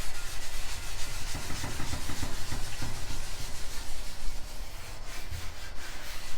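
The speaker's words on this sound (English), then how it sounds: "Then we're going to use this scrubber." A scrubber works a lightly oiled Blackstone griddle in loud, close, rhythmic rubbing strokes that repeat steadily with no talk.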